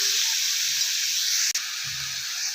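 Chopped ridge gourd frying in a pan gives a steady, close sizzling hiss that runs throughout, with a brief dropout near the middle.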